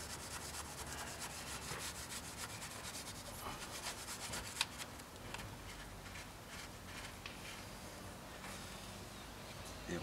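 A cloth pushed with a screwdriver rubs back and forth inside an injector seat to clean it, making a faint, continuous scratchy rubbing with small quick strokes.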